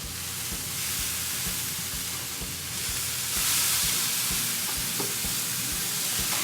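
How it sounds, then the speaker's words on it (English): Burgers on a pellet grill smoking with pecan shell pellets sizzle with a steady, close hiss, punctuated by a few soft spatula taps and scrapes as they are flipped; the sizzle swells louder midway, no talking. "Let's go ahead and flip these burgers"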